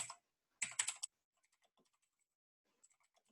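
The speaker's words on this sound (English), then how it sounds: "let me type it here" A short burst of typing on a computer keyboard, several quick clustered keystrokes close up, followed by a few faint scattered key taps in a quiet room.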